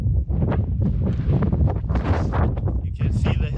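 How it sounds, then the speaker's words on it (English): Strong wind buffets the microphone on a cliffside hill on El Hierro in the Canary Islands, a loud continuous roar and gusting rumble with speech-like voices mixed in. "It's quite windy, also a little bit cold, but we out here."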